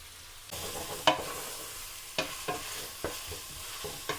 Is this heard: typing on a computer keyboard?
no